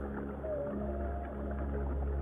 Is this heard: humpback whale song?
yes